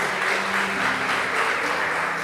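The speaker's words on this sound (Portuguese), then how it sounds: "Quem pode aplaudir ao Senhor por isso?" A church congregation applauds, a dense wash of many hands clapping continuously at a steady level, filling the room without speech.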